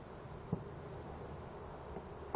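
Honeybee swarm humming steadily during a hive inspection, a soft continuous drone with faint occasional rustles and no one talking.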